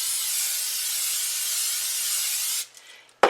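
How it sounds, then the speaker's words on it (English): Olive oil sprays onto shrimp on a sheet pan in one continuous close hiss of about two and a half seconds, followed by a brief soft clatter. "now I'm going to spray them with some olive oil"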